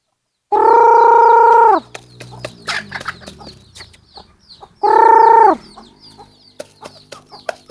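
A male fighting rooster crows twice in long, loud, close calls, with scattered clucking and soft bird chatter between them and no talking.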